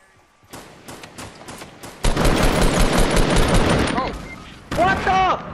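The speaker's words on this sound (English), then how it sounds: "I just got one shot by a shotgun!" Video game shotgun fire crackles in dense, rapid bursts of close, loud shots, with a sustained volley in the middle and a further burst near the end, as voices speak in between.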